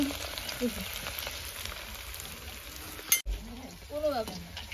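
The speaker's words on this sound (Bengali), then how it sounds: "এখানে আমাদের পকোড়া ভাজা হচ্ছে।" Pakoras frying in oil at an outdoor picnic, a steady bubbling sizzle heard at moderate distance with a sharp clatter and a voice briefly speaking near the end.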